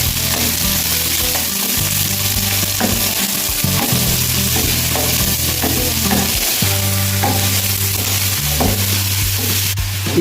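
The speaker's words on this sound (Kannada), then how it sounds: "ಈಗ ಇದಕ್ಕೆ 2 ಈರುಳ್ಳಿಯನ್ನು ಹಾಕುವ." Two onions sizzling in a hot pan, a loud steady frying hiss with a spatula stirring and scraping throughout, close up.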